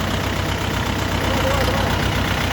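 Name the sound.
four-cylinder diesel tractor engine idling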